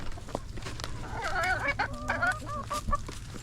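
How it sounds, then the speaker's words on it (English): A chicken on a farm clucks and gives a run of warbling calls, close and moderately loud, with faint scuffling and outdoor noise behind it. "There's Ransom's little chicken."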